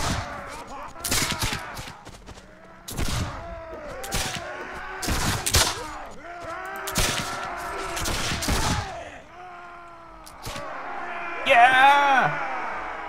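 Bursts of gunfire and cannon fire from a naval battle in the game Caribbean!, coming in repeated heavy volleys with someone talking over them for most of the stretch.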